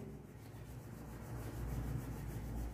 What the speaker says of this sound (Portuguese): só vou pegar a borracha e apagar isso aqui